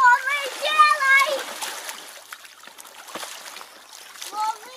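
Water sloshes and splashes as waves are made in an Intex frame pool, soft, close splashing running under the chatter of a child and an adult.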